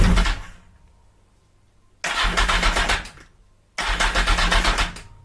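A Yamaha XS1100 cafe racer motorcycle with no fuel cranks over in three loud, close bursts of starter whirring, separated by short pauses, without catching.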